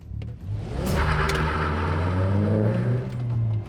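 A Vauxhall Zafira engine revving hard as the car accelerates, a loud, close mid-pitched drone that climbs steadily in pitch over a few seconds with no talking.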